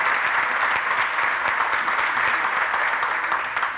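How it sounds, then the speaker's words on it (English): Crowd applauds at a highway loop groundbreaking and ribbon-cutting ceremony, a dense, even roar of many hands clapping outdoors, sustained and loud before tapering slightly at the end. "let's give all these people a round of applause"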